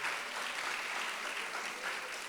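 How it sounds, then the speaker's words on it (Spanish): Faint, steady applause from an audience at a journalism workshop on podcast writing, a soft continuous patter of clapping with no voices over it. "Un aplauso"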